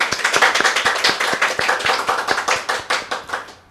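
A Catholic congregation claps together at an Ascension Day Mass, producing sharp, evenly spaced claps in a quick steady rhythm that fade slightly toward the end.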